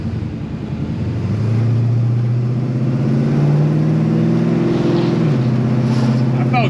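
A high-horsepower car pulls through its gears, its engine a loud, steady drone that rises in pitch and then drops at a shift near the end, heard close from inside the car.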